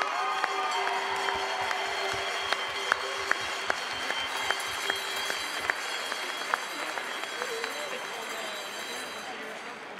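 Audience applauding agricultural-education teachers at a French event, a dense sustained clatter of clapping with crowd noise and a few voices through it, fading slightly toward the end.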